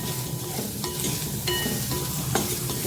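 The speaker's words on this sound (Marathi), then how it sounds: "गॅसवर कढई ठेवले त्यात कांदा टाकायचा आहे कांदा आलं आणि लसूण सर्व एकत्र भाजून घ्यायचं" Onion, ginger and garlic fry together in a kadai on a gas stove, giving a close, dense sizzle broken by a few sharp spatula scrapes and stirs, with no talking over it.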